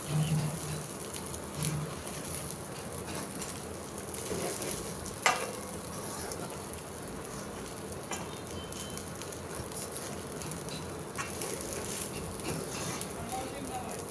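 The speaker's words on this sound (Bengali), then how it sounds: "গরমটা হয়ে গেছে, নাড়াচাড়া করে নিচ্ছি" Reheated food stirred in a rice cooker, soft scraping and shuffling of a spoon through the pot with a faint steady sizzle, one brief sharp knock midway, and a voice heard briefly near the start.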